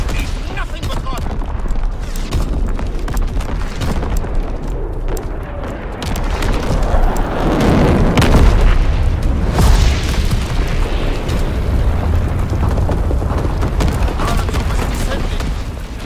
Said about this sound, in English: Firing battery one! Target position confirmed! V2 rocket! Ready for launch!